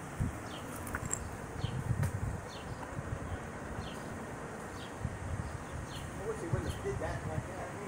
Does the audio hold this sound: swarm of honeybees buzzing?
yes